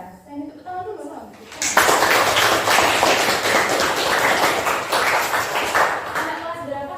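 Applause from a classroom of children breaks out after a brief spoken lead-in and keeps going loud and steady for about five seconds, a dense patter of many small hands before it thins out toward the end.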